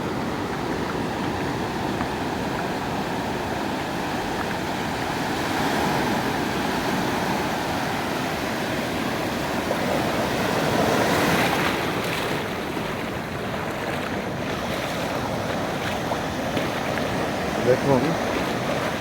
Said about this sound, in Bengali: নিশ্চয়ই আপনারা সমুদ্রের গর্জন শুনতে পাচ্ছেন।